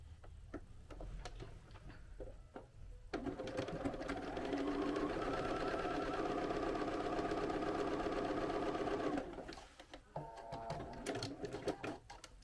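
Domestic sewing machine stitching a seam on a sweatshirt, a steady close mechanical whir with fast rapid ticking running for about six seconds, with quieter handling sounds before and after.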